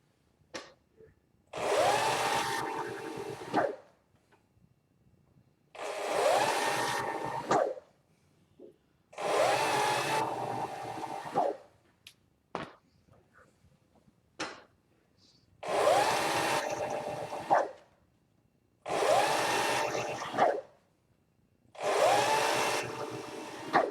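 A leather skiving machine thinning bag pieces runs in about seven separate bursts of a few seconds each, a loud whirring, grinding motor sound that stops between passes, leaving near silence and small handling clicks.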